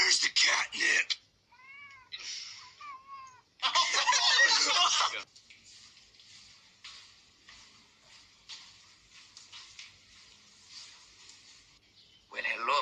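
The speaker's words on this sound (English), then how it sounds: "Well, hello, Mr. Kitty" A cat gives several close, clear meows in two separate bursts, between loud stretches of laughter and talking, then softer chatter and giggling follow.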